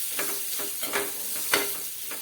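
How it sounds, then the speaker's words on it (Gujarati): Potatoes are stirred and fried in a pan for a dry potato bhaji, giving a soft steady sizzle with a few scraping spoon strokes, quiet and close. "હવે તેમાં બટેટાને નાખી દઈએ અને સારી રીતે મિક્સ કરી દઈએ."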